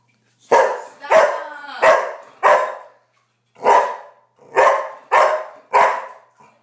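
A Boxer dog barks eight times, loud and close, in two bursts of sharp single barks with brief silent gaps between them and no voices.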